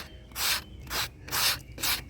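A sanding sponge rubs back and forth over the painted body of a 1966 Chevy C10 pickup, four distinct scratchy strokes in a steady rhythm, close and fairly quiet with no talking.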